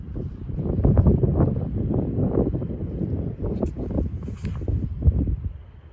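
Strong headwind buffets the microphone on a golf course, a continuous low rumble with gusty surges, close and fairly loud.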